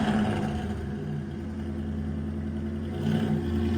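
Ford Crown Vic with a newly installed manual transmission driving around a building, a loud, steady low engine rumble that swells slightly at the start and near the end.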